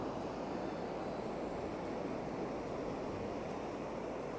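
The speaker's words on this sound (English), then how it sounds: "you can hear the waves coming in" Ocean surf rolling onto Ao Krathing beach in Chantaburi, Thailand, a steady broad wash of waves with light wind, constant and moderately distant, with no voices.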